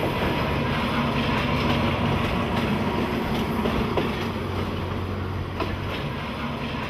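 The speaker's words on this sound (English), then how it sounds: "We eventually found a train that was going to the airport." A normal stopping passenger train bound for the airport in Thailand rumbles along from inside the carriage, with a continuous loud roar, low rolling hum and occasional clickety-clack thumps of the wheels over rail joints.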